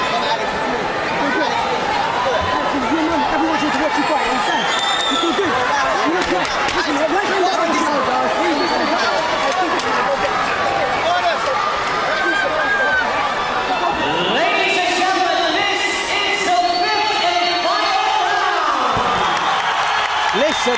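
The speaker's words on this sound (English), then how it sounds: "listen to that crowd for this, the 5th and final round" A boxing arena crowd cheers and chatters loudly and continuously ahead of the fifth and final round, with whoops and scattered clapping swelling near the end.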